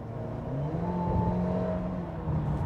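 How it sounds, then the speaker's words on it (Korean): Inside the cabin of a Mercedes-Benz GLB 250 4Matic under hard acceleration, the engine drones with a steadily rising, moderately loud pitch over tire and road hum. "이런 좀 엔진 사운드가 들어오는 게 있다"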